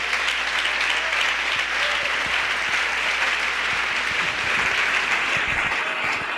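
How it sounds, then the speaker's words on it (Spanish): A church congregation claps in praise during a Spanish-language service, producing dense, continuous applause at a steady level with a low hum underneath. "Aplauso al Señor Jesús en esta mañana."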